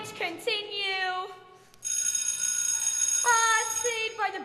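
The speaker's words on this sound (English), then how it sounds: "Saved by the bell." A school bell rings during a stage production of High School Musical, a sustained, steady electric ring that starts partway through and carries on under and between raised voices.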